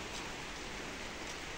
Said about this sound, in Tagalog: Para kahit pa paano makatikim naman ng ulan.